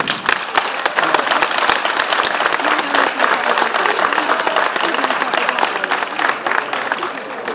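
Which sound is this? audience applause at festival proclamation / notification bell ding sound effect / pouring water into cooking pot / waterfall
audience applause at festival proclamation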